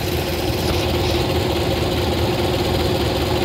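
A 1931 Lincoln K V8 idles steadily nearby with a loud, even mechanical hum and a constant low rumble.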